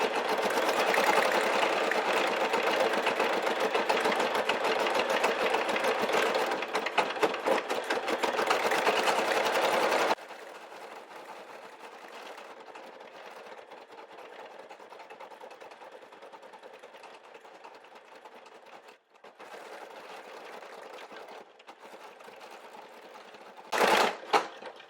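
A Brother SE1900 embroidery machine stitches an Easter basket design with a loud, dense, rapid needle chatter for about ten seconds. It then drops to a quieter, steady mechanical hum, with a short louder burst near the end.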